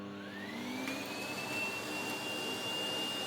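The motor of a Sebo K3 Premium upright vacuum spins up, its whine rising steadily in pitch before settling into a steady, fairly quiet drone.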